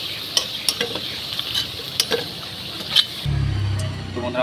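Potatoes frying in oil with turmeric and salt, sizzling steadily under repeated sharp spoon clicks and scrapes, then joined near the end by a low, steady rumble.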